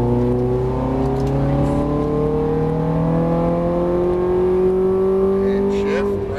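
A Ferrari accelerating on a track, its engine note climbing steadily in pitch as it pulls hard, loud and close from inside the car, with no talk over it.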